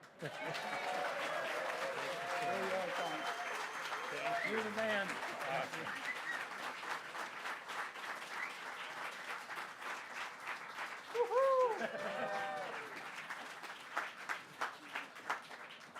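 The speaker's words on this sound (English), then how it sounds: "How about a little round of applause also for Gene Jones?" An audience at a veterans group's Tom Paine 288th birthday party claps in a sustained round of applause, with voices talking and calling out over and between the clapping.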